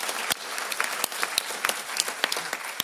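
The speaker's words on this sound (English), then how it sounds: "I wish you that we give him an applause to welcome him" Audience at an EU policy panel on animal welfare legislation applauds to welcome a speaker, a steady patter of many hands punctuated by sharper nearby claps, moderately loud and with no speech over it.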